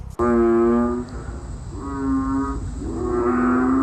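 Frogs croaking loudly at night in Guangdong, three deep, drawn-out calls that sound like a cow's moo, each one loud and close, with short pauses between them and no voices.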